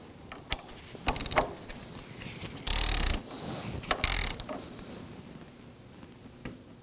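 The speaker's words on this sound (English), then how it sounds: "For the two 14 millimeters that are located on the bracket, we're gonna torque them down to 33 foot-pounds." Engine mount bracket bolts (14 mm) on a 2014-2020 Acura MDX are tightened with a wrench, giving scattered close ratcheting clicks and one longer burst of rapid ratchet clatter against a quiet background.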